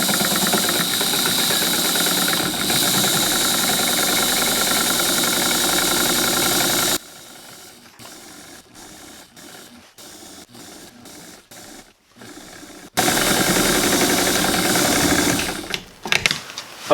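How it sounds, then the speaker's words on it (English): A sewing machine stitching a hem arc on a dog coat, with a loud steady whir for about seven seconds, then a stretch of slower stop-and-start stitching, and a final fast run, all close and without talk. "I want to come in here and sew a big arc"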